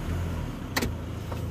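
A car rolling slowly backward onto ramps during a tire pressure sensor repair, a low engine idle with one brief sharp clack partway through, no talking.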